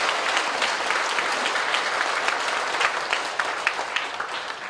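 A church congregation at a thanksgiving service for a pastor's 40th anniversary of ministry applauds: dense, loud, continuous clapping from a large crowd that holds steady throughout.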